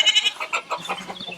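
Goats on a farm bleating at feeding time, several short, loud, close calls in quick succession with a few lower animal sounds at the end.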